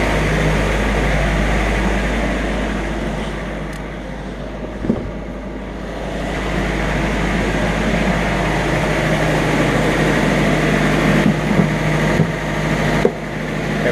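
A Ransomes lawn mower engine drones steadily while cutting a large, dry lawn, a loud continuous close-up rumble with a few brief knocks and clatters near the end.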